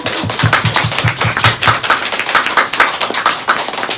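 Audience at a book talk clapping for the authors after their readings, loud close claps in a quick, fairly regular rhythm throughout.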